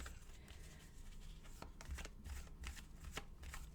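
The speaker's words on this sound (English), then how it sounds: "we're just going to take them off the deck as I'm done shuffling" Tarot cards shuffled by hand, a soft, steady riffling and tapping that stays faint and close throughout, with no talking.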